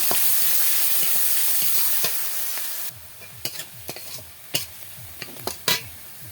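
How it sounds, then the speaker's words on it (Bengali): Sliced onions with a pinch of turmeric frying in oil in a wok. A bright sizzle gives way to rhythmic scraping and clinking as the onions are stirred, close and fairly loud, with no talk. "পেঁয়াজ ভাজা হয়ে গেছে"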